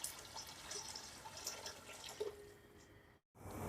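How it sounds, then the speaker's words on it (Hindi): Water running steadily into a cooking pot for biryani, a soft continuous splashing stream that cuts off briefly near the end before resuming. "अब इसमें मैं पानी शामिल कर दूँगी 3 गिलास।"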